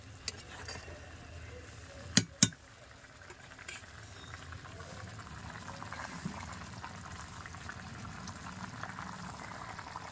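Mustard fish curry simmering in a pan in a home kitchen, a steady low bubbling hiss throughout with two sharp clinks near the start.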